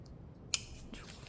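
Scissors give a single sharp snip while notching the seam allowance of a hooded fashion outerwear garment at the sewing table, a brief close crisp cut in an otherwise quiet room.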